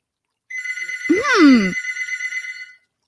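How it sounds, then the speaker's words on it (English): A telephone rings with a trilling electronic bell for about two seconds, clear and close, while a voice talks briefly over the middle of it. "Oh, your phone again."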